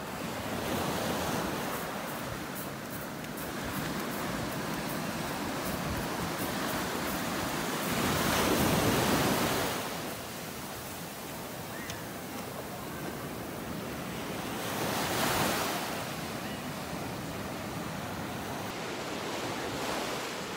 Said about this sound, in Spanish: Miren las olas, hoy sí llega hasta aquí